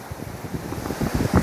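Sea waves wash onto the shore beside a lagoon, a rough surging roar mixed with gusty wind buffeting the microphone, close and fairly loud without any speech.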